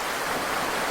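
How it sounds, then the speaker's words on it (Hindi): Flowing stream water at an outdoor spot in a Hindi-dubbed South Indian film, a steady, even broadband rush that carries on without a break and with no voices over it. "बहता हुआ पानी,"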